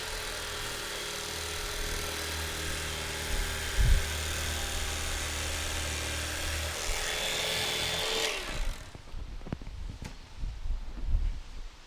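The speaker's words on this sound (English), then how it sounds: "we're going to do with the little sanding disc" A small sanding disc on a power tool whines steadily while shaping a motorcycle seat pan for a 1970 Kawasaki F5 Bighorn, loud and continuous, then cuts off around eight seconds, leaving scattered handling noises.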